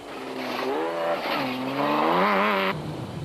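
Production-class race cars at the 2007 Rustenburg 200 roar past up close, engines revving and shifting through rising and falling pitches before the sound cuts off abruptly.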